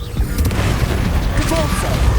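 A spell blast explodes in Hogwarts Legacy, a loud booming impact amid rapid bursts and pops of combat, with game voices shouting spell names over it.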